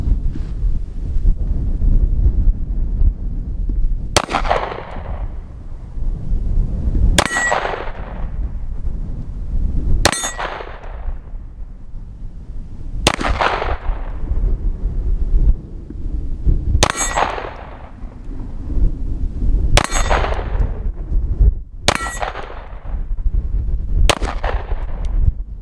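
Tisas 1911 DS Carry pistol fired at steel targets on an outdoor range: eight loud shots at a steady, unhurried pace, each followed by a metallic ring, over constant wind noise.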